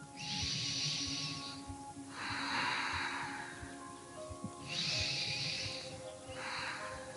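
Heavy, hissing breaths from a power yoga session repeat in slow cycles, each long exhale rushing loud and close before easing off, with no talking over them.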